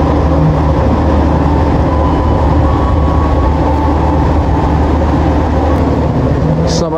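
Dharmawangsa economy train on the Surabaya–Jakarta line rolls into Tegal station, a loud sustained rumble of wheels and carriages throughout, with a brief high squeal near the end.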